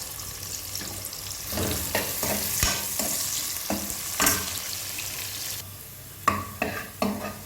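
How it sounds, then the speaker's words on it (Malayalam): Onions frying for Malabar-style ghee rice crackle and hiss in the pan, with repeated stirring scrapes and a few sharp clinks near the end, close up and with no voices. "ഇതിലേക്ക് സവാള കൂടെ ഇട്ട് വറുത്തെടുക്കാം."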